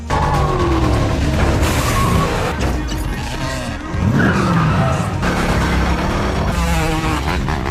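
Loud tires screech and skid repeatedly over roaring car engines in a movie car chase through traffic, a continuous frantic burst of squeals and revving with a thud partway through.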